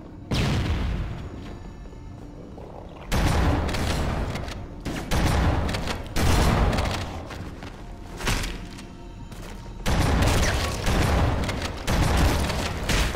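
Grenade blasts and bursts of gunfire in the Halo video game's Library level, heavy booming volleys that come in several loud waves separated by short quieter gaps.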